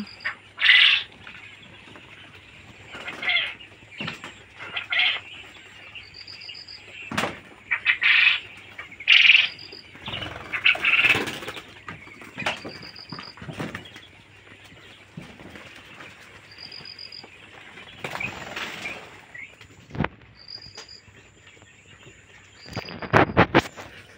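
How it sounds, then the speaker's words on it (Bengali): Ten-day-old quail chicks giving repeated high, thin chirps in short bursts, with occasional rustling and wing flutters in the background. "আর এই যেগুলো দেখতেছেন, এগুলো 10 দিন বয়সের কোয়েল পাখির বাচ্চা।"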